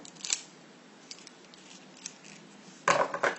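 Scissors snipping through paper during a craft project, a few short quiet cuts spaced apart and then a quicker cluster of snips near the end, close and soft in a quiet room.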